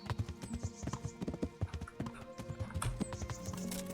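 Horse hooves clip-clop at a steady trot in the medieval game Kingdom Come: Deliverance, the footfalls close and clear, layered with jingling tack and game ambience.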